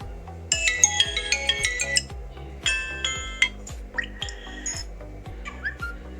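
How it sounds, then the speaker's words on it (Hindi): A repaired Vivo Y81 phone plays its ringtone loudly and clearly, a bright repeating electronic melody with a rhythmic thumping beat underneath, cycling through several phrases. "रिंगर बचा के देखते हैं।"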